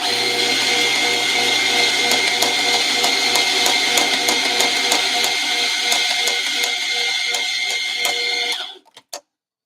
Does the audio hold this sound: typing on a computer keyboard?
no